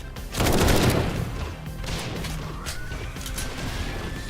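Rapid gunfire rings out while zombies are shot in the game 7 Days to Die, opening with a loud burst of overlapping shots that eases into a steady rattle of fire.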